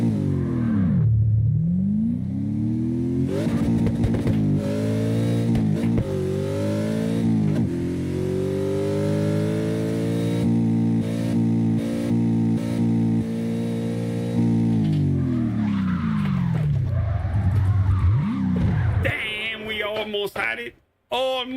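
An all-wheel-drive car in the CarX Drift Racing video game revs and drifts, its engine note sweeping up and down repeatedly with tire noise under it, loud and continuous, ending in a short burst of sharper sounds.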